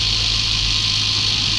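A small electric four-piston engine running at speed, a steady close hum with a whirring buzz and faint vibration throughout, no talking.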